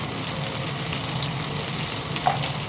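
Ginger-garlic paste frying with pressure-cooked meat, chili powder and turmeric in a pan, giving a steady, soft sizzle with a few light crackles. The frying is moderately close and continuous, with no voices.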